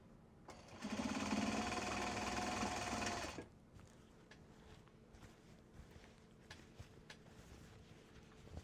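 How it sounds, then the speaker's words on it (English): A sewing machine winds a bobbin in a short, fast mechanical whir lasting under three seconds, fairly close, followed by quiet room sound with faint handling clicks. "let's start winding this next bobbin."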